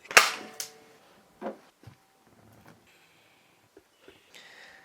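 A toy bead gun fires one sharp, loud pop right at the start, followed by a second smaller snap and a few faint clicks and knocks in a quiet indoor room.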